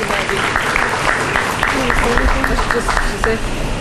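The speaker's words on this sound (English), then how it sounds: "I just want to give her a round of applause and thank her as well." Crowd applause at a town bicentennial birthday celebration, steady moderate clapping with voices and chatter mixed in beneath it.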